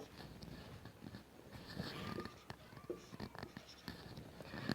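A pen or marker writes on a board or page while working a Class 12 matrices exercise, faint continuous scratching strokes with small taps, close and quiet, no talking.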